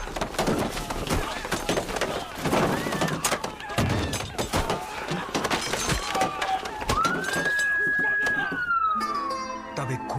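A siren rises and holds a steady wailing tone near the end, following a loud, chaotic stretch of crashes, thuds and commotion.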